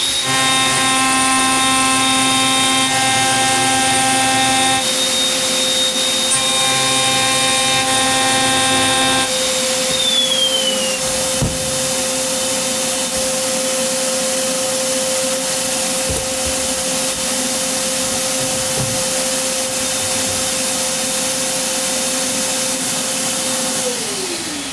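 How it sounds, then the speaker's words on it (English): Router table jointing guitar wood blanks, a loud continuous high-pitched whine with a steady motor tone, running close by for the whole stretch with a brief shift partway through and winding down at the end. "So that's the router table jointing, and it looks really good too."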